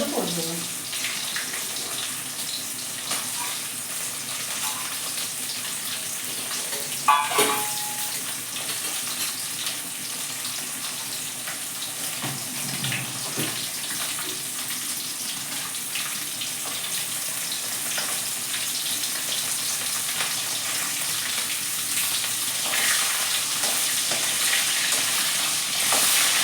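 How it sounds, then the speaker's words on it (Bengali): Water is poured into a hot cooking pan with bay leaf and black cumin, giving a steady close hiss and bubbling sizzle that carries on throughout. "আমি জল দিয়ে দিলাম"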